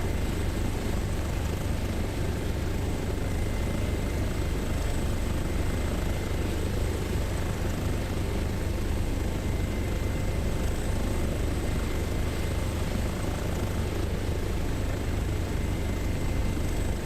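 An HPG H145 helicopter in Microsoft Flight Simulator drones loudly and steadily for the whole stretch, a dense, close rotor and turbine roar with no pauses or voices.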